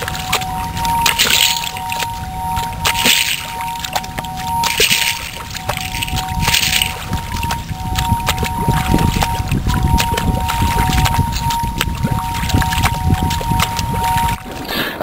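Marquette percussionists perform a piece honoring Lake Superior using water from the lake itself, producing pouring, splashing and dripping sounds with wooden knocks and a thin sustained ringing tone, close and continuous throughout.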